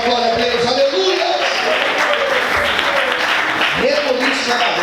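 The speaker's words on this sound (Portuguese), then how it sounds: "Aplauda o Senhor mais forte, dá glória a Deus." A church congregation claps and praises at a Portuguese-language worship service. A steady wash of applause runs under loud amplified speech from the preacher.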